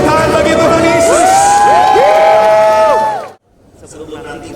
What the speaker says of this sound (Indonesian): Sorak-sorai tepuk tangan bagi Tuhan Yesus.